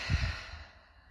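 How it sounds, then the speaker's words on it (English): A single breath is taken in and let out in a soft, close, breathy sigh that fades away, with no talking. "deep breath in and out"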